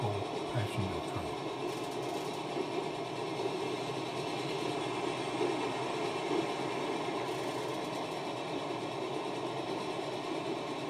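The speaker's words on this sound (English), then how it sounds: "Currently, we're passing the local passenger train." A Big Boy heavy steam train in the game Transport Fever rumbles steadily along with a continuous mechanical drone and clatter, loud and close, never letting up.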